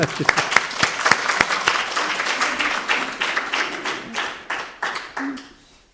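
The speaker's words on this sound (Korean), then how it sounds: "우리 박수를 한번 하냐." A Korean church congregation bursts into lively clapping that gradually thins and fades toward the end.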